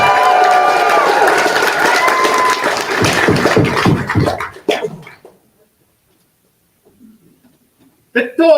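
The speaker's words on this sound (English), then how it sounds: "And can we just give them a big cheer? A joyous noise!" A crowd at a rapier championship court gathering cheers and shouts loudly for several seconds, then cuts off into near silence before a brief burst of voices returns at the end.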